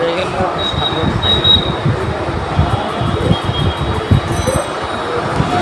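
A train at a crowded station gives a steady rolling rumble with high metallic wheel squeals drifting above, fairly loud and continuous, with faint voices in the background.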